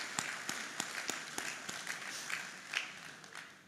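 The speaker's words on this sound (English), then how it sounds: "let's give them a round of applause" Scattered applause for honorees at a college football press luncheon, a modest crowd clapping unevenly with a few sharp, distinct claps standing out, moderately quiet in a hall.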